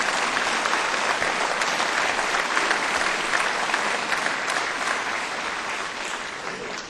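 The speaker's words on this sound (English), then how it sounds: "I think we should give our first responders a great round of applause for what they're doing for us today." Sustained applause from a legislative audience at a joint session, steady and dense across the whole stretch, fading slightly toward the end, with no voices over it.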